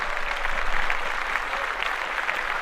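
A small group claps briefly during a sports podcast, a dense burst of hand claps at close range, steady for the whole stretch with no speech over it.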